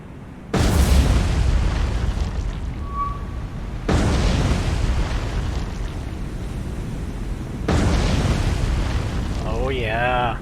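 Torpedo explosions striking a battleship in the naval game War on the Sea: three massive booming blasts at wide intervals, each followed by a long roaring rumble of spray and sea, loud and close, with a brief warbling tone near the end.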